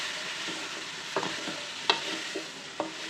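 Chicken sautéing with ginger-garlic paste, cumin, coriander, chili and turmeric powder, a soft steady sizzle punctuated by several sharp spoon scrapes against the pot, close and fairly quiet.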